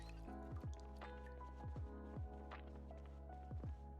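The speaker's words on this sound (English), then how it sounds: "Go ahead and drink water. And fill our water bottle." Water bottle being filled in a video game: short gurgling, squishy liquid bursts, often in quick pairs, rise over a steady tonal ambient bed. They are close and clear, with no talk.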